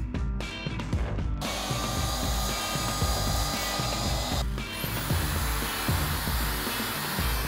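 A power drill bores pilot holes into the wooden handle of a prop hammer, a loud continuous whirring drone with a brief pause and restart midway, close up.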